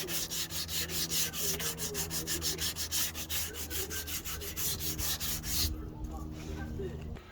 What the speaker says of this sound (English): I did that with the hand sanding, with just this